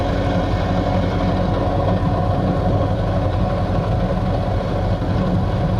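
Ford Model A engine running cold while driving at low speed, a loud, steady low rumble and drone that holds constant throughout with no talk over it.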